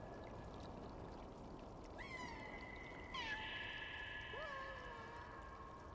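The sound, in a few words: cat meowing in video game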